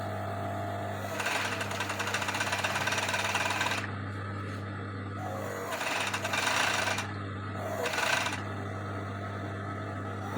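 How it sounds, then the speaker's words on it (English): A domestic sewing machine runs in three bursts, stitching the back seam of a custom-size biker short, each run a steady close whirring chatter separated by brief pauses and quiet handling. "Then I'll bring it over to my sewing machine."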